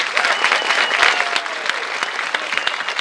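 An audience applauds at a housing block groundbreaking ceremony, a dense and steady wash of many hands clapping, loud and sustained with a faint murmur of voices beneath.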